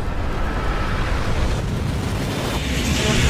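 An explosion in a Skibidi Toilet episode is a dense, sustained roaring blast of broad noise that stays loud throughout with no voices over it.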